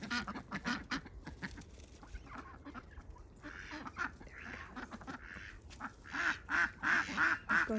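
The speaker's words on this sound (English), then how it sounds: "Let's hear the Drake." A drake duck wearing a red leg band quacks in loud, repeated, raspy bursts close by, with other ducks calling around it.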